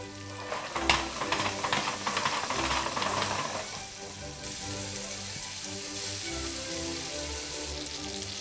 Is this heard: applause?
no